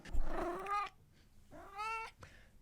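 A cat vocalizes close by in two drawn-out, rising meow-like calls separated by a short pause, with a brief murmur trailing at the end.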